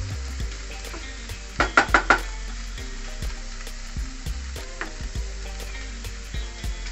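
Egg breakfast masala mixture sizzling in a pan over a low flame, a soft continuous fry with a few sharp clatters of stirring near the start and occasional light scrapes.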